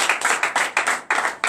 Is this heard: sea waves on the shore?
no